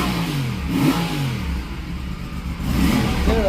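A stock Aprilia 457 motorcycle engine revved in two throttle blips, rising and falling from a low rumble, loud and close, with an idle dip in between.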